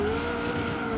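A McLaren drifts in the BeamNG Drive driving game, its tires squealing in a steady, loud high whine over a continuous engine roar for the whole second, with no talk.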